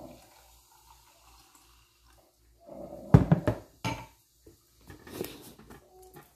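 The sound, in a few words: pouring cranberry lemonade into a glass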